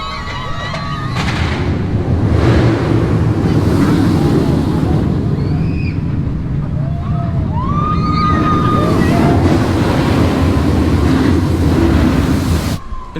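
Loud, steady wind roar rushing past during the SheiKra roller coaster ride at Busch Gardens Tampa Bay after its 90-degree drop, with distant riders' screams and whoops rising and falling throughout.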